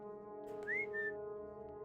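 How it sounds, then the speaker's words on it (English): A character whistles in the stealth game Alekhine's Gun, a short rising whistle followed by a brief held note over a steady humming background, clear and close. "Oh, I didn't mean to whistle."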